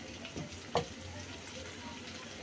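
Okra cooking in a pan on low heat with lemon peel added gives a soft, steady sizzle, with a brief clatter of the peel going in near the start.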